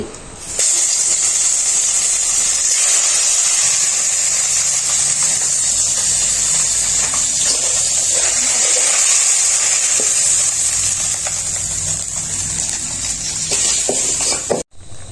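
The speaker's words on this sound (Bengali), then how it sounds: "মাছগুলো তেলের ভিতর দিয়ে দাও, সুন্দর করে ভাজে নাও" Rui fish fries in hot oil, a loud, steady sizzle that holds broad and even from start to finish, with faint stirring underneath and no talk.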